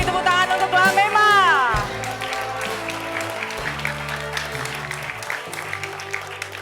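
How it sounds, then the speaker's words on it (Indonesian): Studio audience at a TV talent show breaks into loud applause and cheering, then the clapping fades under a presenter's voice and music. "Sekali lagi beri tepuk tangan untuk Lamema."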